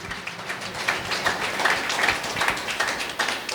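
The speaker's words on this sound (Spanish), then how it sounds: "Fuerte aplausos a Cristo Jesús." Dense, sustained applause fills a church service held in Quechua and Spanish, the clapping steady and fairly loud throughout with no clear talk over it.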